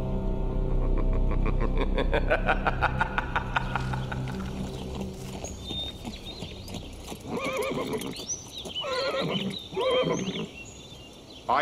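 A horse whinnies loudly in a long, shaky neigh, with hooves clip-clopping nearby and more snorting calls following.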